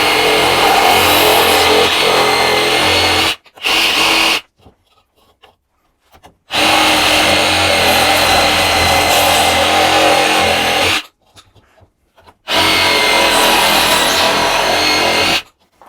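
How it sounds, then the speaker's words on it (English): A Sawzall reciprocating saw cutting off the end of a pipe, loud and close, running in three long bursts of harsh rasping buzz separated by silent pauses, with no speech. "Now I'm going to just use my Sawzall and cut that end off."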